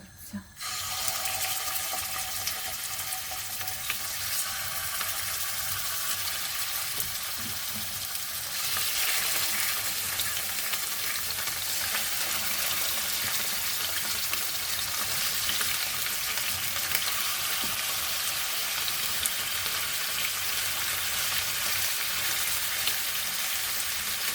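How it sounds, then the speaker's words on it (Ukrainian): Pork ribs sizzle loudly in a hot pan, a constant crackling hiss that starts after a brief clatter and grows fuller midway, with no talking. "Наша сковорідка нагрілася викладаємо реберця."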